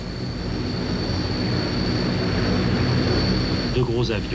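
Antonov transport aircraft at a Soviet air base in 1976: a steady jet engine roar with a high whine, and a voice cutting in near the end.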